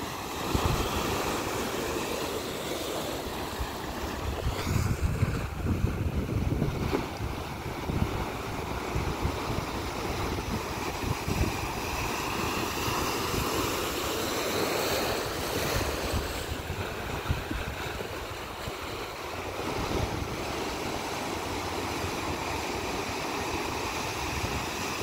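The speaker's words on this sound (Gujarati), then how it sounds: "અને મોજા આવે છે" Sea waves washing onto the shore at Dwarka, a constant roar of surf mixed with heavy wind buffeting the microphone, rising slightly in a few swells, with no talk.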